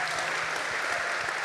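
Applause from an audience at a peace leadership panel, a steady dense patter of many hands clapping that holds at an even level through the short stretch.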